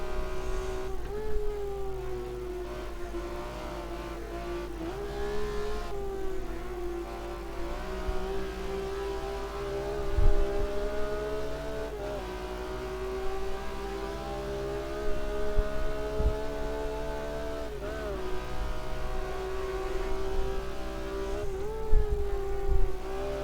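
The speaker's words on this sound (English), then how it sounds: "Hear him feathering the throttle." A BMW M1 Pro race car engine in the Automobilista 2 racing game whines at high revs around the Buenos Aires circuit, dipping and rising as the throttle is repeatedly feathered, steady and continuous.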